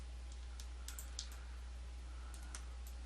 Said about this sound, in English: So I'm holding Control and clicking.